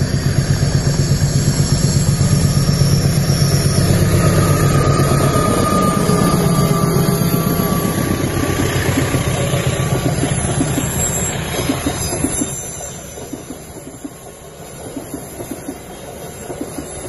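The Serayu passenger train, hauled by a CC203 diesel locomotive, rumbles loudly across the Cirahong bridge with a broad roar and hiss. The noise recedes after about twelve seconds, leaving a fainter rolling rumble.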